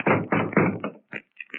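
Knocking on an apartment door: a loud run of three heavy, closely spaced raps, then a short pause and a few lighter, quicker knocks, close and with no talk over them.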